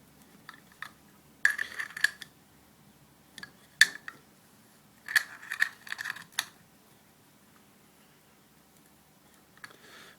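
Small parts on a DIY two-channel true bypass loop switcher pedal enclosure being tightened, giving clusters of sharp metallic clicks and scrapes in a few short bursts, close and fairly quiet, with near silence between.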